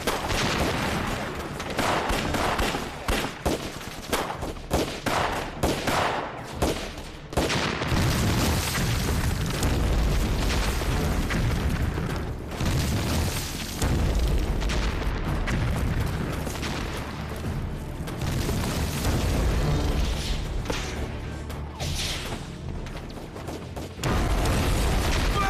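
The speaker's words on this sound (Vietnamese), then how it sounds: "Thẩm Gia Lưu, bắn cho tôi." Loud, dense gunfire and explosions in a war film, with sustained bursts and heavy booms throughout, sharp cracks early on and a continuous roar of battle without pause.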